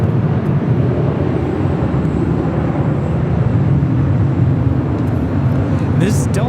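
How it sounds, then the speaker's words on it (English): A Delta Airbus A321 departing Los Angeles airport produces a loud, steady, broad jet roar that holds evenly throughout, with a brief higher whine near the end. "Delta A321 taking off to Detroit, flight 708."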